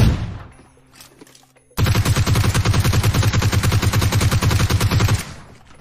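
Sustained automatic gunfire in the PUBG Mobile video game on the Vikendi map, a loud rapid burst of shots running for several seconds after a brief quieter lead-in.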